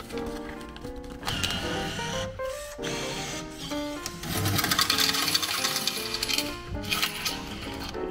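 Coins dropping and rattling through a coin-operated shower machine at a laundromat, a busy run of clinks and mechanical whirring, close and fairly loud.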